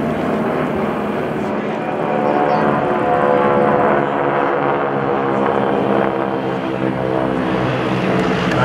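T-28 Trojan warbird propeller planes flying at an air show, a loud, continuous droning engine roar that holds steady and swells slightly, with no clear talk.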